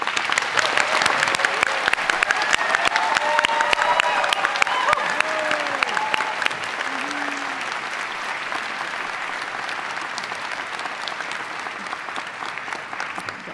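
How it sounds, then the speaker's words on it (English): Sustained applause from a convocation crowd at Emily Carr University honours the people standing, a dense steady clapping that runs the full length with a few faint voices and cheers mixed in, easing slightly toward the end. "could we get a round of applause for all the lovely people that are standing up?"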